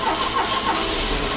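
A vehicle engine cranks and catches in one continuous burst of rough, broadband rumble, fairly loud and close, with no voices over it.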